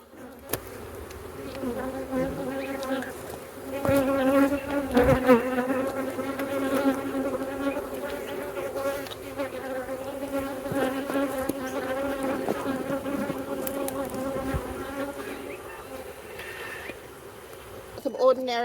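Honey bees drone around an open beehive during a hive inspection. A dense, close buzz with a wavering pitch carries on steadily for the whole stretch.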